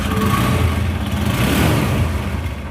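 A car engine revs at a Honda dealership, a steady, close, unbroken roar that holds at an even level for a few seconds with no voices over it.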